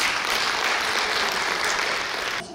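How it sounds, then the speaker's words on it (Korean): An audience at a welfare forum in Sejong gives sustained, even applause before a presentation, a steady wash of many hands clapping that fades slightly at the end. "박수로 발표를 청해 듣겠습니다."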